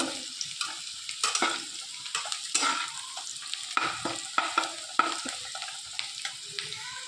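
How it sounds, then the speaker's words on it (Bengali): Onions deep-frying in oil for beresta crackle with a steady sizzle while a spatula stirs and scrapes the pan in quick, uneven strokes, close by and moderately loud. "পেঁয়াজ বেরেস্তার ভেতর সামান্য একটুখানি লবণ দিয়ে দিয়েছিলাম, তো এটা আর একটু ভেজেই নামিয়ে রেখে দেব।"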